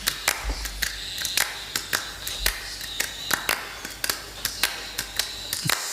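Hand claps recorded for a song in a music studio, a series of sharp, close individual claps in a loose rhythm, slightly uneven in timing, with a quiet background between hits.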